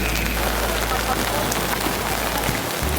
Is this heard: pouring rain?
yes